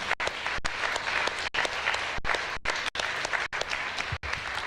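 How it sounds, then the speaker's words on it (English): An audience at a lecture claps, a dense, loud burst of many hands with short breaks, close and steady, with no talking over it. "Give him a round of applause."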